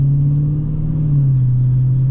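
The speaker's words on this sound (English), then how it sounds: "You can hear the exhaust system in the back. It's pretty loud if you're giving it some gas" A 2017 Dodge Challenger Scat Pack 392 V8 engine drones loudly with a deep, steady exhaust rumble, pitch shifting slightly as it holds a low throttle; no talking.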